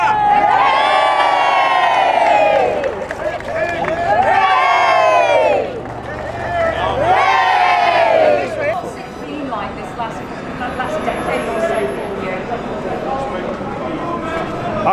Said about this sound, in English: Big cheer!